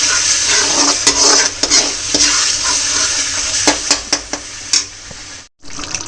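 Masala spices fry in a pan with a constant close sizzle, while a spoon stirs and scrapes, giving repeated sharp clicks throughout.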